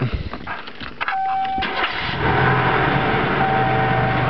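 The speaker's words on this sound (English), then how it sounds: "That starts right up. It's quiet, it's got no muffler on it yet." A car engine with no muffler fitted cranks briefly and catches, then settles into a loud, steady, rough idle, close by and with no talk over it.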